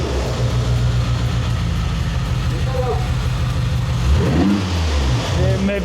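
A car engine revved hard during a repair project, a loud close rumble that rises and falls in pitch with the throttle while someone speaks over it.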